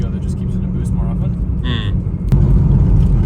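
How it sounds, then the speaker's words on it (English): A Subaru WRX STI engine rumbles loudly and steadily up close while a person talks over it, and the pitch and loudness lift near the end as the car pulls harder. "I'm very impressed with how quickly this thing spools"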